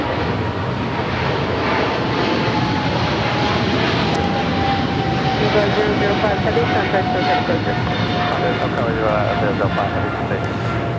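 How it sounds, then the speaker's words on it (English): An Eva Air Boeing 777-300ER heavy jet departs Los Angeles for Taipei, its engines a sustained, moderately loud rumble with a thin whine on top, while people talk softly underneath. "Eva Flight 5 heading back to Taipei in the 777-300ER"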